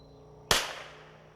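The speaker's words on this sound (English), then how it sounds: "we're going to shoot 5 out of our Eley Club" A single sharp crack of a .22LR rifle firing Eley Club ammunition at an outdoor range, close and abrupt with a short decaying tail, with quiet background before and after.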